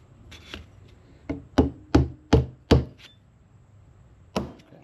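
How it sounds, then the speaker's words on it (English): Hammer strikes driving new roller pins into an NP205 transfer case shift fork: a few sharp metallic taps, then a quick run of four heavy evenly spaced blows, and one last hit after a pause, close and loud. "Hammer."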